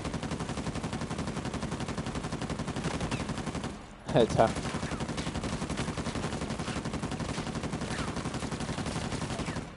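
Sustained rapid gunfire in the action game Uncharted 4: A Thief's End, a continuous rattling burst that breaks briefly midway, then resumes steadily; a voice speaks a single word over it.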